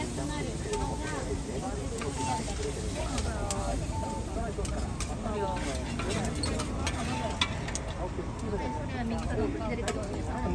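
Vegetables stir-fried in a pan at a food stall, a continuous hissing sizzle with scraping and clinking of utensils under ongoing talk.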